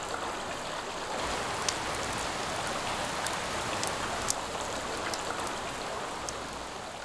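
Mountain streams and waterfalls in the Salzach headwaters of the Alps rush steadily, a dense, continuous broadband roar of flowing water with occasional brighter splashes, close and even throughout.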